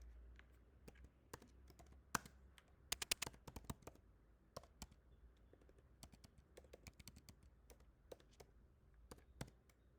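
Quiet, close computer keyboard typing of code, with irregular bursts of key clicks and short pauses throughout, no voices.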